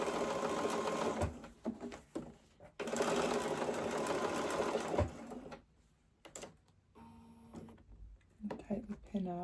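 A sewing machine stitching a patch onto a jacket runs in loud, fast bursts of rapid mechanical chatter, stopping and starting with pauses and handling clicks between runs.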